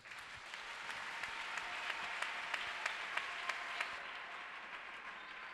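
A church congregation applauds steadily during a sermon, a soft, even wash of clapping with a few sharper claps standing out, moderately distant and without speech over it.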